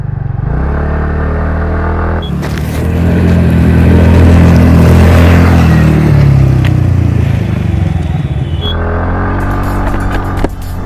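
A TVS Ntorq 125 Race XP edition scooter engine in race mode revs hard and close, climbing to a loud peak and settling back to a steady idle-like drone.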